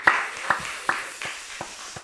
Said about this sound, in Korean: 우리 하나님께 큰 영광의 박수 올려드립니다